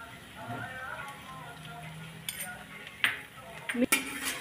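A spoon scrapes and clinks in a pan while a dish of tender chickpea leaves with crushed peanuts and salt is mixed, sharp scattered metallic taps over quiet, soft background speech.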